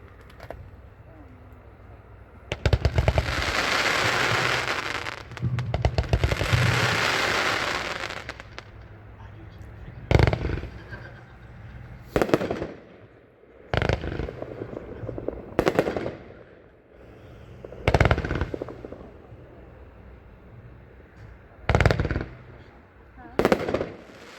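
A 36-shot Electric Dreams fireworks cake at a demo: a long crackling, hissing burst early on, then a series of sharp separate booms and pops spaced a couple of seconds apart, loud and outdoors.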